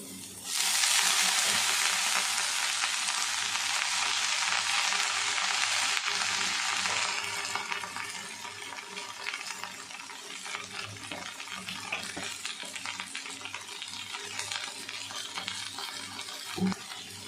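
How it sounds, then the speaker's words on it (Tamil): Drumstick leaves fry in a pan with garlic and onion, a loud bright sizzle for the first several seconds that then settles into a softer crackling hiss, with occasional stirring knocks near the end. "கீரை வதங்கிட்டே இருக்குது."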